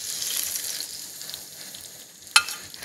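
Garlic, lemon and butter are poured over chicken in a hot pan, giving a soft, steady sizzle that fades gradually, broken near the end by a single sharp clink of metal.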